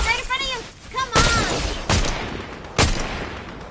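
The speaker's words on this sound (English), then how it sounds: "What's shooting?" Gunfire in the video game Fortnite, several heavy booming shots spaced about a second apart, loud and close, with a voice talking briefly at the start before the first blast.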